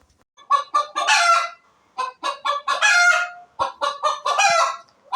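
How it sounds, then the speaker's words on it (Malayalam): A hen cackles loudly and close by after laying an egg, repeating bursts of rapid clucks rising into long drawn-out calls, in three clear phrases separated by short pauses. "ഈ കോഴി ഒരു മുട്ടയിട്ട സന്തോഷ വാർത്ത അറിയിക്കുന്നതാണ്."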